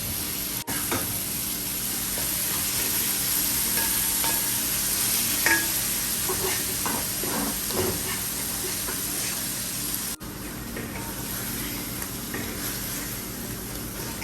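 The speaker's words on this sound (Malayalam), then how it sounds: "ഈ മസാലയെല്ലാം അപ്പുറത്ത് അടുപ്പിൽ വെച്ചൊരു ചൂടാക്കിയെടുക്കാം." Masala heated on a stove and stirred, a continuous close sizzle and hiss broken by occasional scraping strokes.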